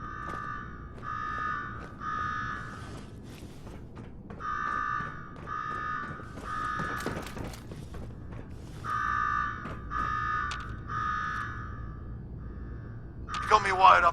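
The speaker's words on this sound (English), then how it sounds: "Now go shut off that damn alarm." An alarm rings in Fallout 4's Nuka-World, sounding as a steady series of evenly spaced electronic buzzing pulses that repeat in groups under game voices and background ambience.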